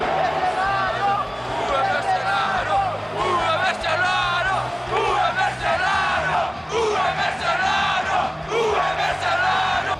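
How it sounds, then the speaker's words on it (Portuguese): A large crowd of Grêmio fans in a stadium boos Ronaldinho, a loud, sustained mass of jeers and shouts that fills the stands for the whole stretch, with no single voice standing out. "os gremistas vaiaram o craque no momento em que ele pisou no gramado olímpico"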